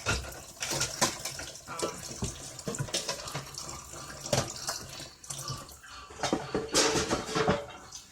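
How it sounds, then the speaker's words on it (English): Water runs from a tap with irregular splashing, mixed with clinks of dishes and cutlery nearby; no one speaks. "Hope, why are you playing with the water again?"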